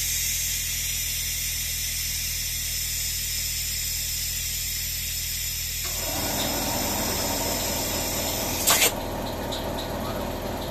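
A tyre being inflated after it came off the rim, with compressed air rushing in a steady hiss that starts partway through and continues over a constant low engine-like hum, followed by a brief sharp burst near the end.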